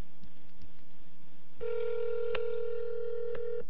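A cell phone emits a few faint keypad clicks, then a steady loud tone holds with short beeps cutting in over it, close and alone without talk.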